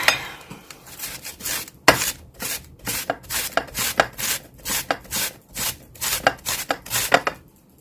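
A knife slices through cabbage by hand on a board, a brisk run of about twenty crisp, evenly spaced cuts, close and loud, with no talking.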